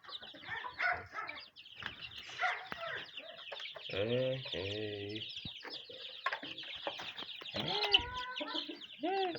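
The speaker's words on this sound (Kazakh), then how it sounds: "Мына балапандар тәтті." Chickens cluck and chicks cheep nearby in a busy flurry of short calls, some higher peeping among them, with rustling movement.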